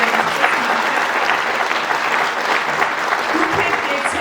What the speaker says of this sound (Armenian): Եկեք ևս մեկ անգամ իրենց ծափահարեք,